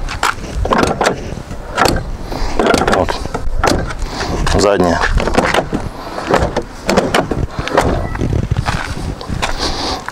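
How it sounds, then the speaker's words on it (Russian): Doors of a Lada Kalina 2 Luxe car about six and a half years old with 65,000 km on it being shut one after another, several solid thuds and latch clicks in close succession while someone talks over them. "Двери закрываются, вот послушайте."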